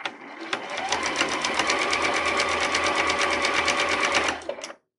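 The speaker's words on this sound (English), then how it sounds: "we're just going to gently, you know, carefully follow along this line all the way around the napkin" A sewing machine stitches steadily around the edge of a fabric napkin, its rapid needle chatter loud and close, running continuously for about four seconds before stopping abruptly.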